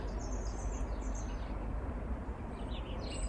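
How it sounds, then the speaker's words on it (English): Birds chirp faintly outdoors, high thin calls scattered over a steady low background hum, with no talking. "Can you hear all the birds singing?"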